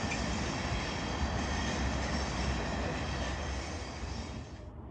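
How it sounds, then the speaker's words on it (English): Azuma passenger train, unit 800-208, creeps slowly into a station, making a steady broadband rumble of wheels and traction noise that holds at an even level and fades slightly at the end. "Creeping into the station now, we see 800-208, the Azuma service on 1B80."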